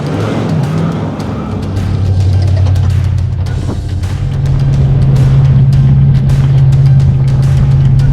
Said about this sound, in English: Sounds like a trophy truck.